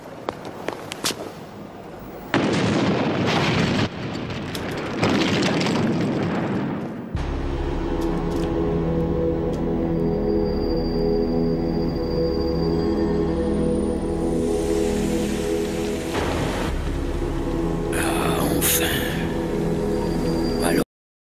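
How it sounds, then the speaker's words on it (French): A bomb goes off in the Highlander animated cartoon, a loud deep rumbling blast that swells and lingers under the soundtrack after a few earlier sharp hits. "Oui, c'est une bombe."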